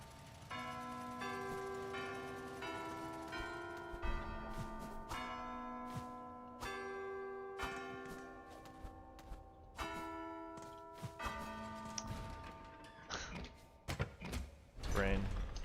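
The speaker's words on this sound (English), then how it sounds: "Why do the bells sound so weird?" Bells ring inside the video game Silksong, steady tonal chimes layered over game music, with sharp transient hits and mechanical clanks scattered through, loud and continuous.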